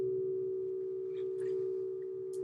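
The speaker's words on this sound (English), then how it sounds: "two different tones are playing at the same time" Two dissonant sine tones sound together as a steady, unbroken electronic hum, moderately quiet, with a few faint chirps and clicks scattered over it and no speech.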